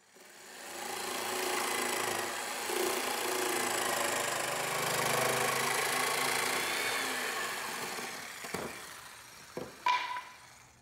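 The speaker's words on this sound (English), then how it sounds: "I then set my saber saw to a 45 degree angle and cut out 1 sheet at a time" Saber saw cutting sheet stock at a 45-degree bevel for a Haven 12 1/2 centerboard, a steady loud buzzing drone running almost ten seconds before stopping, followed by a few sharp knocks and clatters near the end.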